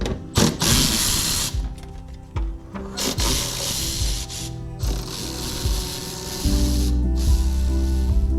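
A ratchet wrench works bolts loose while a BMW headlight is being removed, giving close, rapid clicking bursts with short pauses between runs and no talking.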